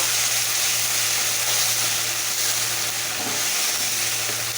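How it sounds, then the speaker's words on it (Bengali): Tomato paste being stirred into pabda fish masala in a pan, a steady broadband sizzle of sautéing with soft stirring scrapes, close and continuous with no speech over it. "সে টমেটোটাও দিয়ে একসঙ্গে ভালো করে মিলিয়ে নেব"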